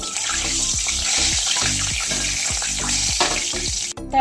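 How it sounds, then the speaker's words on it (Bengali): Black cumin and dried chilli tempering sputters in hot oil, a loud steady sizzle with rhythmic bumping stirs, then a sharp clatter at the end. "কিছু আমি এর মধ্যে ফোড়ন দেব, কালো জিরে আর শুকনো লঙ্কা। ফোড়নটাকে আমি হালকা করে ভাজা ভাজা করে নেব।"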